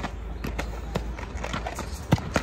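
A large horse shifts about with its hooves stepping unevenly, a scatter of soft thuds and scuffs on the ground, moderately close, with no one talking.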